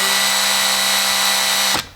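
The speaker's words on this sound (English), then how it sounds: "with the 5/16 bit. There we go, a little dot. Through our pre-drill hole." A cordless power drill with a 5/16 bit runs loud and steady at full speed through a pre-drilled hole in a roof while solar panels are being mounted in strong wind, then stops abruptly near the end.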